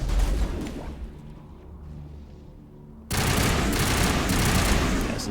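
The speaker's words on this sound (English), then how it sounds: "This is a burst fire assault rifle." Gunfire from a burst-fire assault rifle in Mass Effect Legendary Edition, with loud crackling bursts at the start, a quieter lull, then a sudden dense barrage of shots with booms.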